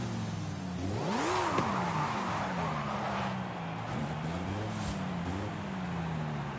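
A 2021 MINI GP engine in Forza Horizon 5 revs up and down in rising and falling sweeps, a loud, steady in-game engine note with brief tire and gear sounds and no talking.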